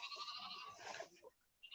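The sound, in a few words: sheep bleating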